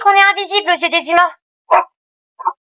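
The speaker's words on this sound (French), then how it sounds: "Elle reste près du chien comme si le chien allait s'arrêter d'aboyer sur elle" A cartoon dog in the Angel Friends animated series barks in a few short, sharp yaps after a girl's high-pitched voice speaks, the barks spaced apart and close.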